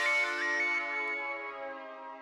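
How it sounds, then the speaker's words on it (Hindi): Phone ringtone in a Hindi TV sitcom scene, a loud, clear electronic melody of bright sustained tones that slowly fade, heard alone. "हाँ बोल चंपक, तेरे ही फोन का इंतजार कर रहा था।"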